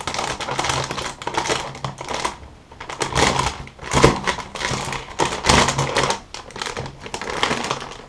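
Resealable plastic bag holding a dual filter respirator mask being opened up close, with loud bursts of crinkling and crackling plastic in uneven handling movements, no talk.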